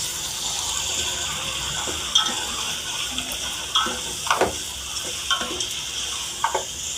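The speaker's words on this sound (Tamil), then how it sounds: "வெங்காயம், தக்காளி, இஞ்சி பூண்டு பேஸ்ட்டு எல்லாம் நல்லா வதங்கட்டுங்க" Onion, tomato, ginger-garlic paste, mint and coriander leaves sauté in oil for vegetable biryani: a steady, close sizzle with occasional spoon scrapes and taps against the pan.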